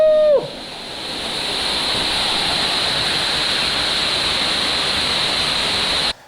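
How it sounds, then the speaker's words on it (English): A small waterfall pours into a mountain canyon gorge, its steady, dense rush of white water filling the scene at close range after a brief high voice at the very start. "It's a nice little waterfall!"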